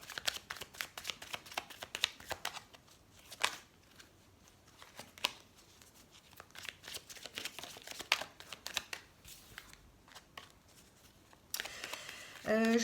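Tarot cards being shuffled and drawn, soft riffling, flicking and slapping taps in irregular bursts, close and quiet, with brief speech near the end.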